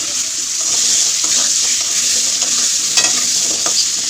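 Potatoes fry in a pan with a loud, continuous close-up sizzle. Scattered clinks and scrapes of stirring cut through it, and a hint of running water sits underneath.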